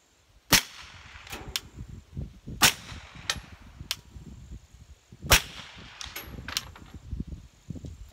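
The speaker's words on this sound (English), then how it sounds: "So we'll shoot it out there into the dirt." A firearm loaded with 147-grain Hush ammunition fires into dirt outdoors: about eight loud, sharp reports at irregular intervals, each with a brief ringing tail, and quiet gaps between them.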